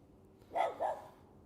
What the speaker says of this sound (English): Outdoor prepper dog is angry.